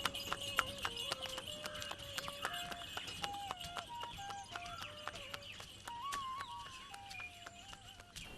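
Horse hooves clip-clop steadily along a street, as from a horse cart, a fairly faint rhythmic clatter under a melodic line that runs throughout.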